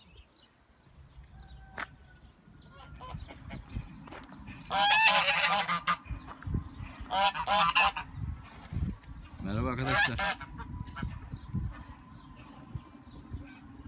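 Geese honking loudly and close by in an old-town street setting in Antalya, with repeated bursts of cackling calls in several clusters, while someone briefly talks over the first part.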